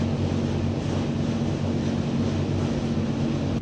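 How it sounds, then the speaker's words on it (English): Wind and broadband wave noise roar steadily as a boat pounds into the wind on the open sea near Coos Bay, with a low engine-like hum underneath, loud and continuous throughout with no talking. "We're pounding into the wind."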